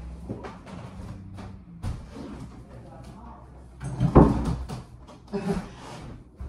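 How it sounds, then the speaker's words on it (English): An indoor door is pushed shut with a single soft thud around the middle, amid faint shuffling and room noise, with a quieter knock shortly after. "I'm just going to close the door."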